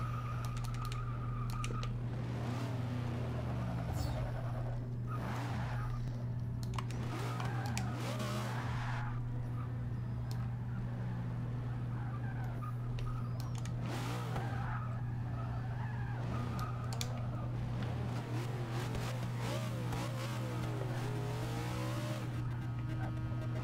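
A car in Forza Motorsport 6 spins its wheels and skids in second through fourth gear, a long run of squealing tire screeches and engine whine over a steady hum, with keyboard tapping and a person talking throughout.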